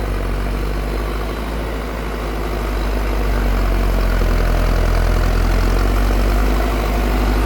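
A Massey Ferguson 5710 tractor rated at 102 horsepower idles with no load, its engine holding a steady, close, low rumble throughout with a slight rise in level midway.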